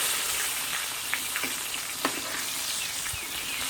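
Herbs fry in oil to flavour it before fish is cooked, giving a close, steady crackling sizzle with a few sharp pops and light stirring, and no speech.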